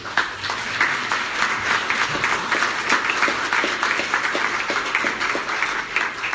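Steady applause from a crowd, a dense wash of clapping hands that holds at an even level throughout.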